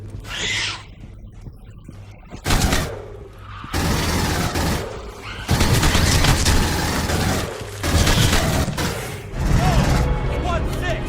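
Bursts of pulse rifle and shotgun fire in the Aliens: Colonial Marines video game, loud rapid volleys with booming blasts, heard alongside game sounds and a voice talking over the action.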